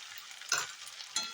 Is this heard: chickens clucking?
no